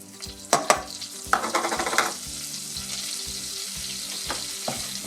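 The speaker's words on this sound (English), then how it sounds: "So my butter is melted, now I'm going to add my flour." Flour cooking in melted butter in a pan for white sauce, a gentle close sizzle with a few sharp clacks and a brisk stretch of stirring scrapes, then quieter steady frying, no voices.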